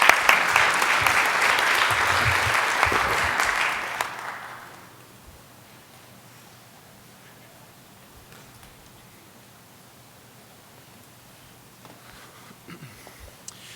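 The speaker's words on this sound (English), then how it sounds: "Big round of applause." Applause at a city council regular meeting, a dense, loud round of clapping that lasts about four seconds and then stops abruptly, leaving quiet room tone with faint rustles.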